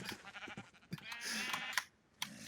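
Sheep in the Minecraft video game bleat several times in quick succession, close and clear, with a couple of short clicks in between.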